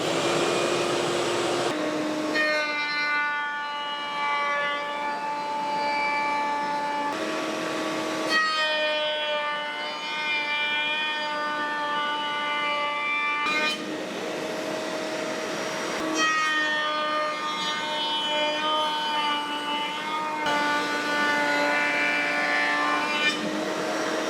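An Oneida Dust Cobra high-pressure cyclone dust collector runs in a woodworking shop, a loud, steady whining drone with tonal harmonics that shift pitch several times as airflow changes, continuous for the whole stretch without speech.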